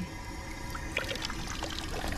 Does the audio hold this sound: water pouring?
yes